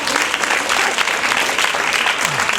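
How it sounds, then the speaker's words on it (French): A crowd at a fair claps steadily and enthusiastically for a beauty pageant contestant, a dense, sustained burst of applause with no pauses. "on l'applaudit très fort"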